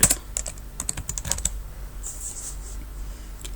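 Someone types on a computer keyboard, a quick burst of close, distinct key clicks followed by a few softer, sparser taps, with no talking.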